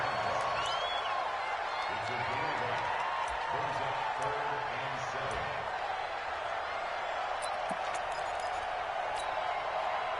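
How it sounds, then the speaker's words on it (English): Stadium crowd at the NFC Championship football game, a steady dense roar of cheering and noise sustained throughout, with a commentator talking over it early on. "The crowd getting into it as we come up on a big 3rd down."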